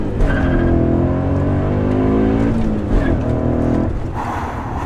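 A supercharged V8 in a BMW M5 revs hard up and down through several sweeping pulls, loud and close, with a brief dip near the four-second mark before rising again.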